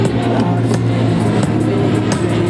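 A four-engine Lockheed C-130J Hercules turboprop flies past with its back ramp open at an airshow, a loud, steady, dense roar that fills the whole clip without fading, with no voices.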